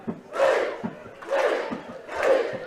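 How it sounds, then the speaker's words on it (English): Crowd cheering after a score at an Ulster Schools football final, three swelling bursts of shouting and roaring that rise and fall, heard from a distance above the stands. "And as you can hear, the crowd down below us enjoyed that."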